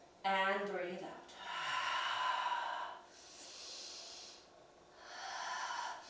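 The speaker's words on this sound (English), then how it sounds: "Breathe in and breathe out." Slow, deep yoga breaths, a long audible inhale followed by drawn-out exhales, close and breathy with a brief voiced sound at the start.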